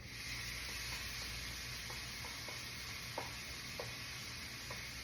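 Sautéed onion, mushroom and garlic returned to a chicken soup pot, a quiet steady sizzle under scattered light scraping stirs and spoon taps, close by, with no talking.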